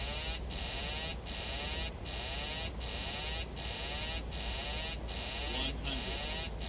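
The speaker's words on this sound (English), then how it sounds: "Sorry about the beeping." A cockpit warning in a PMDG 737 flight simulator in MSFS 2020 beeps in a regular pulsing rhythm, a repeated electronic tone roughly every half second, loud and steady with no talk.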